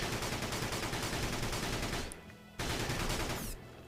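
Continuous rapid gunfire from the Battalion Wars video game, dense and loud, breaks off briefly, resumes, then drops to a lower level near the end, with no voices.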